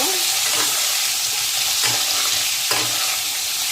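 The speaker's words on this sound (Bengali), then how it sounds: "ভালো করে লাল লাল করে ভেজে নেব" Potatoes fry with salt and turmeric powder, making a constant loud sizzle up close, with a few faint stirring knocks of the spoon against the pan.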